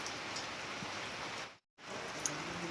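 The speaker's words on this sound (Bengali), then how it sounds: "যে দেখো বাইরে বৃষ্টি হচ্ছে, জোরে হচ্ছে না কিন্তু হালকা হালকা হচ্ছে" Light rain falls outdoors at a village home in the Andaman Islands, a faint, even patter and hiss broken by one brief gap.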